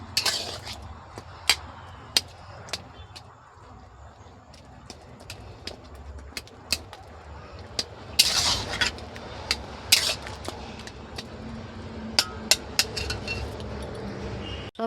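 A spoon scrapes and clinks repeatedly against a pan while tomato pickle cooks down, with irregular sharp taps over a steady sizzling bed of noise and no talking.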